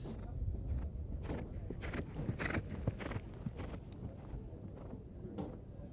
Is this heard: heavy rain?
no